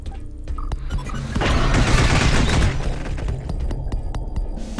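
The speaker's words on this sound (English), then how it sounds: "Are these cryo rounds? Let's get those sentry guns turned on." Sentry guns fire cryo rounds in the sci-fi shooter game Space Beast Terror Fright, a dense, rapid burst of impacts and blasts swelling loudly for a couple of seconds amid scattered sharp hits.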